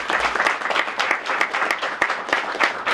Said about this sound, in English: Please give a round of applause to the ambassador.